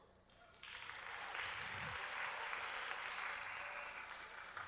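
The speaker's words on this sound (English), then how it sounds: "Round of applause" A campus audience at a social media talk starts clapping just after a quiet opening, swelling into a broad, steady round of applause that carries on evenly at moderate distance before easing slightly at the end.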